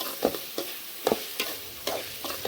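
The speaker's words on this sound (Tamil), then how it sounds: "உருளைக்கிழங்கு இருந்தால் இருக்கு பாருங்க, இதை போட்டு நல்லா வதக்கி விட்டுருவோம்." Potatoes sautéed and stirred in a pan: about half a dozen spatula scrapes at an uneven rhythm, close and fairly loud, over a light sizzle with no talking.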